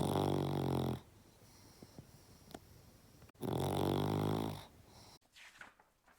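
A voice imitates a dog snoring in two long, loud rasping bursts separated by a quiet pause, with faint background noises in between.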